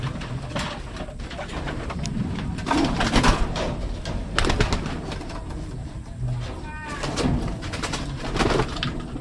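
Racing pigeons coo softly and repeatedly in a busy loft, overlapping throatily with some rustling, flapping and faint knocks nearby.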